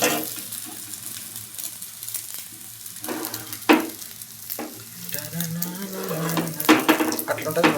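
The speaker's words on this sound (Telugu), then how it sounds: "అట్లుంటుంది మనతో ఆమ్లెట్ వేస్తే." A plain omelette with no onion or fillings fries in a pan, a steady hiss of sizzling with a few scrapes and stirring clatters, close up, while a person talks over parts of it.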